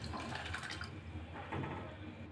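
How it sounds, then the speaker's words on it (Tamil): Water is poured into a cup of jaggery for pidi kolukattai batter, a soft continuous splashing trickle that sounds close, with no talk over it. "தண்ணி சேர்க்குறேன்."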